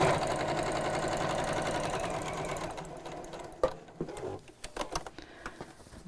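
A sewing machine runs in a fast continuous stitching burst, joining two bag pieces, then slows into a few separate clunks and short runs as it stops and restarts.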